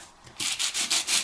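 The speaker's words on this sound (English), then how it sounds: "easily add some distress and sanding details to your project" A sanding block with sandpaper rubs over white core cardstock to distress it, giving four or five close, rhythmic scratchy strokes after a quiet start.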